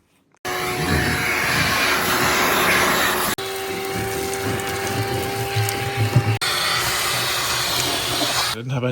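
Epoxy sprayed with a cavity wax gun into car sills during a BMW E36 restoration: a loud, continuous air-driven hiss in three sustained bursts, each cut off abruptly.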